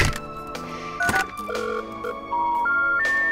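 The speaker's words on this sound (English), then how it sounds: "The phone is there! Let's pick up the phone!" Telephone dialing in the Surgeon Simulator video game: a sharp thunk, then a series of electronic tone beeps stepping through different pitches, loud and close, with no speech.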